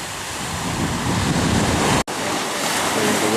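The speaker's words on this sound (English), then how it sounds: "There the waves come in" Big ocean waves rolling in at the shore on a Hawaii coastline, a steady loud wash of surf with wind buffeting the microphone throughout and no talking.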